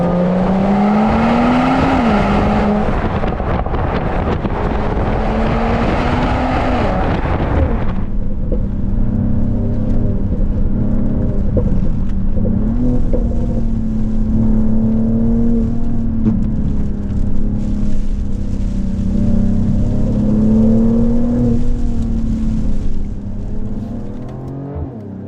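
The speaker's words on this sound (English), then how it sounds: "this 3-liter inline 6 turbocharged engine makes some really nice noises even when you're not going at full throttle" A Mercedes-AMG GLE53 Coupe's 3-litre turbocharged inline-six revs loudly on the move, its engine note rising and falling through repeated climbs and gear changes, with a sharp drop after the first surge and a steady drone that fades at the end.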